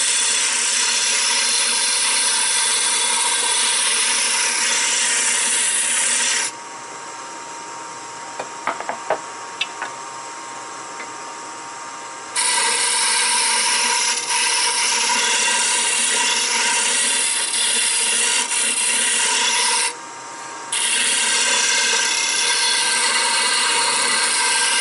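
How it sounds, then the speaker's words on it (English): A wooden handle for a woodturning tool being sanded produces a loud, steady hiss that drops away for several seconds in the middle, where a few small taps are heard, then returns. "I'm gonna sand this offline for just a minute"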